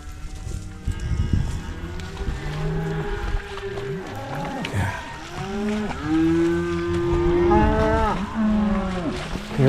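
Cattle on a creek property moo repeatedly, several overlapping low drawn-out calls from the herd, fairly close and loud, with no talking.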